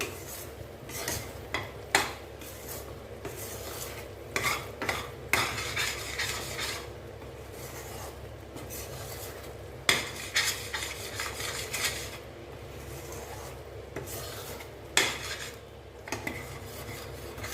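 Mysore pak flour stirred and fried in ghee in a pan makes soft scraping and rasping strokes in irregular bursts, with occasional sharper utensil knocks over a quiet sizzle and no talking.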